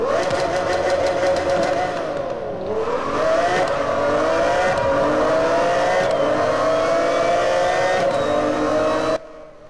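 A Shelby GT500 engine in the video game Need for Speed: Most Wanted revs and roars continuously, loud and close, its pitch rising and falling with gear changes before cutting off at the end.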